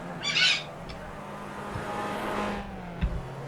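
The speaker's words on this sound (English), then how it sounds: "You can hear the Japanese red-breasted fighting eagle squawking in the background there" A sharp, high bird squawk, called a Japanese red-breasted fighting eagle, rings out briefly early on over the steady drone of race cars in a Suzuka round of a racing game, followed by a faint thump.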